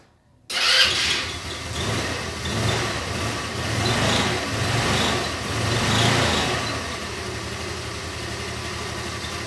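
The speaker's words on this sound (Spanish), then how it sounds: "Ya nada más hay que checar que prenda nuestra moto" A motor scooter engine, just serviced with a new spark plug cable cap, starts abruptly after a moment of silence and settles into a steady, close, rhythmically pulsing idle with slight swells, no talk.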